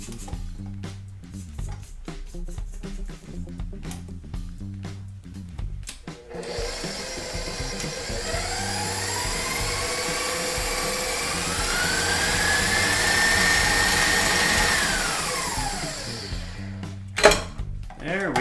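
An electric mixer whirs steadily through gluten-free sour cream donut glaze in a kitchen, a loud motor hum that rises in pitch as it runs, then winds down and stops near the end.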